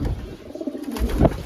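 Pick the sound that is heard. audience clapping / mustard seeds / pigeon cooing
pigeon cooing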